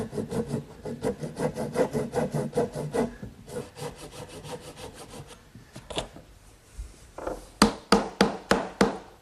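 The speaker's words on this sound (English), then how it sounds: "I'm just going to take my saw and run it between the joint to trim a little bit off" Hand saw cutting through a wooden dovetail joint, a run of steady rhythmic rasping strokes up close, pausing briefly before a few sharper, louder strokes at the end.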